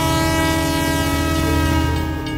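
An MRT train passing close by, a loud sustained horn tone over the steady rumble of the cars for a couple of seconds, with no talking.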